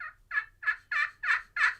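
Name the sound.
turkey hen calls imitated by a hunter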